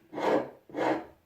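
Two slow push strokes of a wood rasp filing across a piece of wood, each a broad rough scrape of about half a second with a short pause between, close and fairly loud with no voices.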